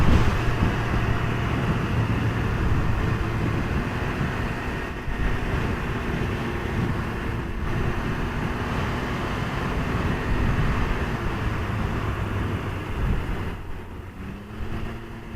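Steady engine drone and wind rush from a 2019 Can-Am Ryker three-wheeler cruising at 60 mph, a loud continuous roar with slight pitch shifts throughout and no voices.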